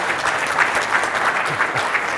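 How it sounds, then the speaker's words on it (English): Audience applause for a stand-up comedian opening a comedy tour, a steady dense patter of clapping hands throughout, fairly loud and unbroken, with faint crowd murmur beneath. "Another round of applause for Paul"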